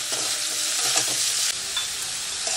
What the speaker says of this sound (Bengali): আলুটা লাল করে ভেজে নেব।